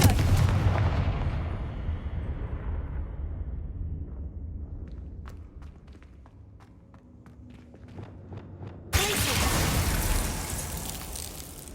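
Spell blast in Hogwarts Legacy: a booming fiery explosion fades into a quieter stretch of small pops and footsteps, then a second loud burst erupts near the end.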